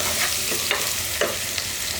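Sliced onion fries in hot oil tempering for sambar, a steady sizzle broken by several scraping stirs of a utensil against the pan at irregular intervals.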